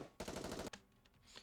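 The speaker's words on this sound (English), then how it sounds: "Amidst the chaos of the maelstrom of gunfire." Machine gun fire in the video game Nikke: one rapid half-second burst, fairly faint, followed by quieter scattered pops.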